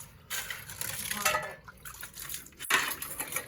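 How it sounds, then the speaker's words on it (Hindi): Dishes and utensils clatter and clink intermittently with running water, close by, one sharper knock standing out. "अम्मी आप बर्तन धोने बैठ गए।"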